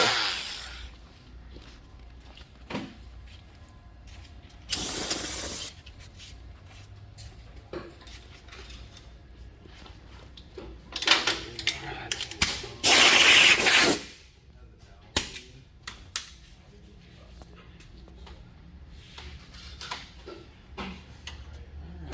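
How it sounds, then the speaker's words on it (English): Short hissing bursts of Fluid Film lubricant spray onto a brake rotor flange during a front brake job, two or three distinct sprays separated by quiet stretches with small metallic clinks and taps. "our favorite fluid film. You just want to get on this flange"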